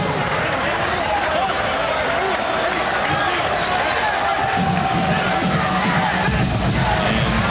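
A packed volleyball arena crowd cheers and yells on senior night at a Hawaii versus UC Santa Barbara college match, a loud, continuous roar with shouts and squeaking shoes beneath it.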